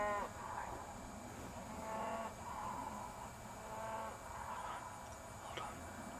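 Cattle moo repeatedly out in the open, several drawn-out calls at moderate distance over a steady background hum, spaced a second or two apart.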